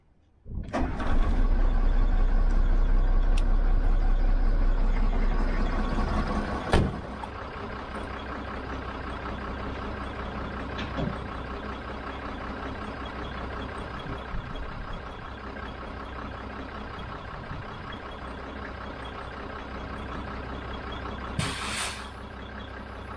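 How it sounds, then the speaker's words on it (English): A specialist recovery truck with a Hiab crane starts up, a loud heavy diesel roar at first that drops to a steady idle, with a sharp clunk and a brief hiss of air near the end. "First things first, get the engine on."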